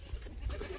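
Goat bleats briefly in a village in Azad Kashmir, a short close call with a herder's voice faintly around it.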